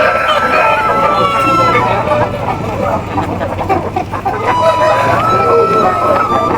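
Chickens and a rooster at a poultry farm, with a sustained crowing call rising over constant clucking and a dense flock murmur, heard close and fairly loud, with a steady low hum underneath.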